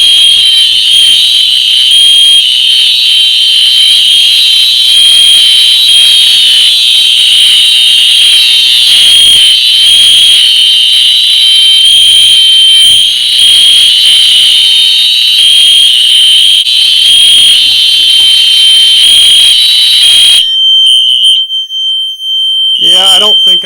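A loud fire alarm system with a 4903 alarm blares continuously during a test, a piercing, steady electronic tone sustained for a long stretch before abruptly cutting off near the end.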